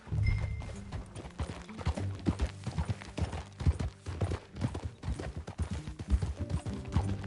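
Horse hooves clip-clop in a brisk, uneven trotting rhythm in Red Dead Redemption 2, close and fairly loud, with faint background tones underneath and no talking.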